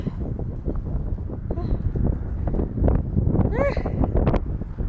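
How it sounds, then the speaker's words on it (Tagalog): Very strong wind buffets a microphone outdoors, a steady roaring rumble with gusty surges, while someone talks over it and a voice rises briefly. "Sobrang lakas ng hangin, guys."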